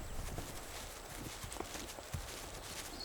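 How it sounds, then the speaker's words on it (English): Horses walking across a high plateau, their hooves producing soft, irregular clip-clops at moderate distance, faint against a steady outdoor background with no voices. "The horses arrive daily on the border of the plateau."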